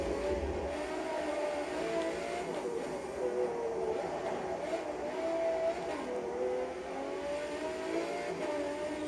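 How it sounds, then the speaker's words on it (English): A loud race car with side pipes in Forza 7 holds a steady, rough engine drone throughout, with wavering revs rising and falling, sitting close and continuous with no talking. "you can already tell that car's way too loud for a racetrack."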